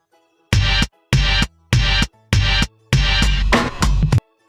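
Drums play six loud, close, punchy bursts separated by short silences, with heavy low thump and crisp attack.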